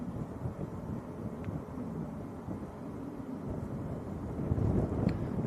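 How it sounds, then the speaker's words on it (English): Steady breezy wind rushes and buffets the microphone at Manchester Airport, a continuous low rumble that swells slightly louder toward the end, with no voices. "It's breezy, but it's not too bad."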